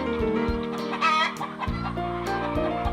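Hens cluck steadily in a short burst of farmyard noise, a few sharper peeping calls from chicks mixed in, close and fairly loud.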